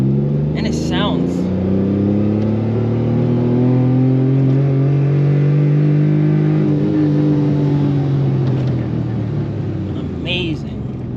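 Small 550cc engine of a Suzuki Mighty Boy kei car running loud and close, holding a steady, slowly swelling and falling drone throughout with a brief rev near the start and near the end, and a voice speaking over it.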